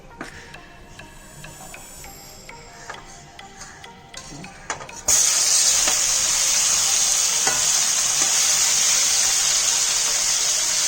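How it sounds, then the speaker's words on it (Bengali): Loud, steady frying sizzle erupts suddenly after a few seconds of quieter clinks and taps, then hisses continuously up close as a boal fish head fries in mustard oil. "কারণ বোয়াল মাছের মাথা ছেটে তেল ছিটতে থাকে"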